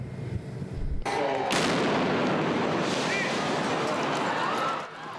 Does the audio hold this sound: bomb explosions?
yes